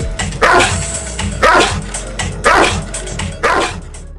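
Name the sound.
Cane Corso dog barking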